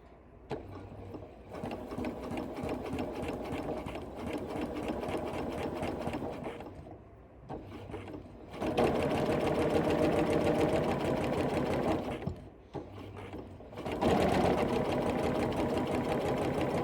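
Sewing machine stitching quilt panel blocks, with long runs of rapid, even stitching broken by a few brief stops, close and fairly loud.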